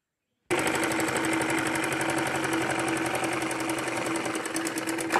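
A sewing machine stitches a fancy baby dress, starting abruptly and then running at a steady, loud, rapid rhythm without a break.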